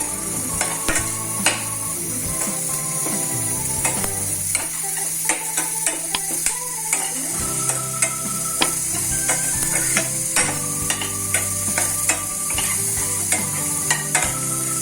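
Steady sizzling with frequent sharp scrapes and clinks of a spoon stirring as chillies and curry leaves dry roast in a pan, continuous throughout with no talking.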